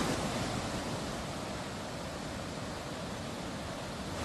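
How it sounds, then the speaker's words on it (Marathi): A steady, powerful roar of water discharging from Kanher Dam in Satara at 1540 cusecs, loud and unbroken throughout with no voices. "कन्हेर धरणामधून 1540 क्युसेक पाण्याचा विसर्ग सुरू करण्यात आला"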